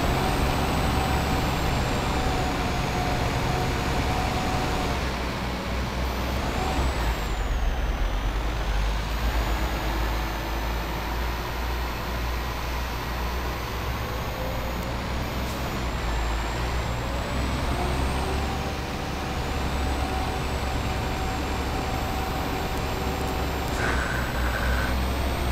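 A heavily loaded truck in Euro Truck Simulator 2 drones along steadily, its engine constant and close, with sharp air-brake hisses now and then and faint tonal whines shifting across the run.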